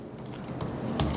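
Rapid typing on a computer keyboard, close up, with a quick run of distinct key clicks and taps that grows slightly louder toward the end, no talking.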